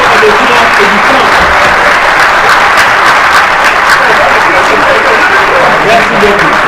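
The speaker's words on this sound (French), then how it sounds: "je demande aux collègues de se lever pour applaudir le ministre de l'économie et des finances et du plan" Members of a parliamentary chamber rise for a standing ovation for the minister of the economy, finance and planning: loud, continuous applause from a large room that holds steady and unbroken throughout.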